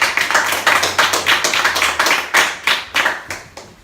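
A small audience at a podcast taping claps for a guest, close and fairly loud, with rapid uneven hand claps running steadily for several seconds with no talk over them.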